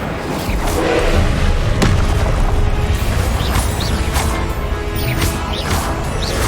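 Incendio fire spell cast during combat in the Hogwarts Legacy video game, a loud dense roar of blasts and whooshes with recurring thuds and crashes throughout.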